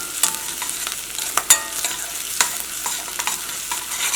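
Dal curry sizzling in a pan on a home stove while a spoon stirs it, with scattered scrapes and clinks of utensil against metal over a steady soft fry.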